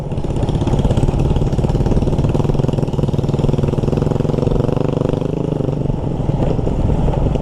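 A loud, steady motorcycle engine rumbles close by, its throbbing drone continuous throughout.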